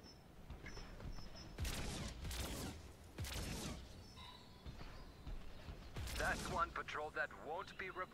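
Shooting at targets around a farmyard in Transformers EarthSpark Expedition on Nintendo Switch: bursts of blaster fire and mechanical whirs in clusters, fairly loud, with a voice talking throughout.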